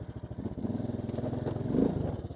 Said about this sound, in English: let me get over this and we'll continue on the talking